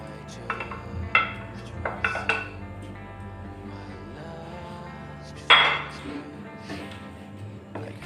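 Potatoes go into a cooking pot of kochuri filling with water, producing several metallic clinks and clatters of spoon and pot, one sharper knock near the end, over a low kitchen hum, fairly close.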